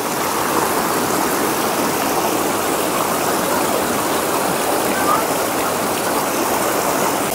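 A stream of cold water flows steadily and fairly loud, a continuous broadband rush with no pauses and no voices.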